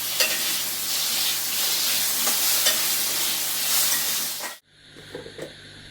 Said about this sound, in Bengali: ওই তেলেই আমি রান্না করছি